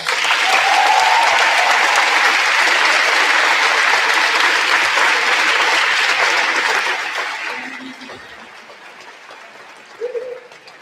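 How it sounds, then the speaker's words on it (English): A graduation audience applauds the teaching staff with a broad, loud wash of clapping that lasts about seven seconds before tapering off, followed by a quiet room where a short bird-like coo sounds. "Please let's have a round of applause for them."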